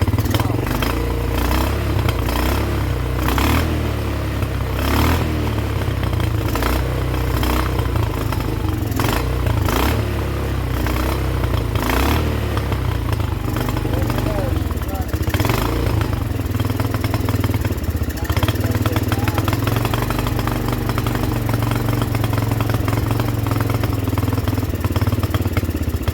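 Small pit bike engine being revived, running continuously and loud with rapid revving bursts and clattering in the first half, then settling toward a rough, steadier idle.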